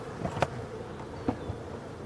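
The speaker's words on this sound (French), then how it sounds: "je vais vous laisser un petit peu avec les abeilles" Honeybees fly around their hives in full sunshine, a soft continuous buzzing hum with a couple of louder passes as individual bees zip close by.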